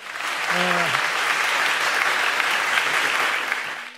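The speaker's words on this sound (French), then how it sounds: "Je vous demande d'applaudir très très fort." A studio audience at a French variety show claps loudly and steadily, a dense sustained wash of applause lasting the whole stretch, with a brief voice near the start.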